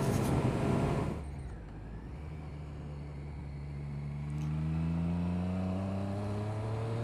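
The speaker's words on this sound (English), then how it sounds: "gotta love the triple sound of a Triumph." 2017 Triumph Street Triple RS triple-cylinder engine with aero exhaust, ridden under trees. A brief loud burst at the start drops to a steady engine drone that climbs in pitch as it revs up and accelerates, fairly close and with no talk.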